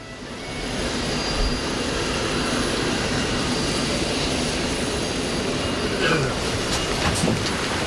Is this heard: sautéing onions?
no